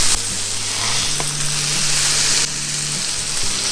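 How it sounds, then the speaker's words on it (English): Bacon for a homemade beef, smoked cheese and bacon burger sizzles loudly in a pan while pressed down with a spatula, a steady hiss with a low hum and scraping touches. "get your spatula and really push that bacon in"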